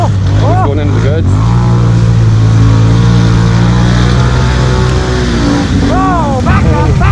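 A Can-Am off-road vehicle with a suspected viscous coupling fault revs loud and close, its engine pitch rising and falling in repeated sweeps as the tires spin, while excited voices talk over it.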